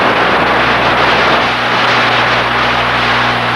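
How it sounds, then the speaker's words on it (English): A Marine Halon 1301 fire suppression system discharges in the engine room of a large tanker, a loud, continuous high-pressure roaring hiss that stays even throughout, with a low machinery hum underneath. "what happens when the Marine Halon 1301 fire suppression system is discharged"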